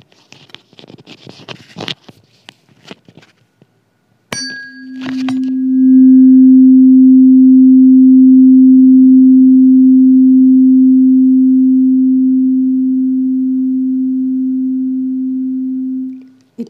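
A tuning fork is struck, then an air column resonates with it in a school physics experiment, giving a loud, pure steady hum that slowly fades over about ten seconds after some brief rustling and a sharp strike.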